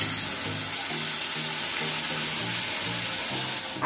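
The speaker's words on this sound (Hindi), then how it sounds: "तो ये देखिए तेल गर्म हो गया है और इसमें मैं अभी ये मसाला डाल दूंगी थोड़ा स्लो करके" Masala spices hit hot cooking oil in a pan at home while a paneer gravy is made, giving a steady, fairly loud sizzle with crackling bursts throughout.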